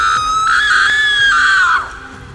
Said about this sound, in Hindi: अंतिम बार उसने चीख कर कहा